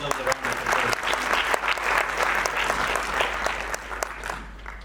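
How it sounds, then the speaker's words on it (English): A crowd at an Arangetram dance recital gives sustained, dense applause. The clapping is loud and close, with a low hum underneath and no clear voices. "She deserves a round of applause."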